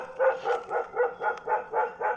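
A dog barking in a quick rhythmic run of about eight sharp yapping barks, close and moderately loud, evenly spaced with no talk over them.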